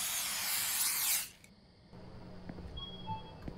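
Spray can hissing at rats in a convenience store night-shift video game: a loud steady spray burst for about a second that cuts off sharply, followed by faint game ambience and a few small tones.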